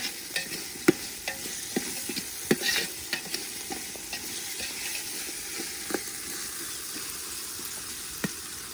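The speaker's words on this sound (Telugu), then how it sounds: "ఇప్పుడు వీటన్నిటిని ఈ మాత్రం పచ్చివాసన పోయేంత వరకు బాగా వేయించుకోవాలి." Chopped tomatoes frying and being stirred in a pan for a chicken gravy, with a steady soft sizzle and scattered clicks and scrapes of a spoon against the pan, close and alone without talk.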